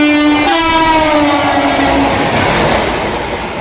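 A train at a railway station sounds a loud, sustained horn blast that fades after about two seconds, leaving rumbling wagon noise and faint clatter at close range with no voices.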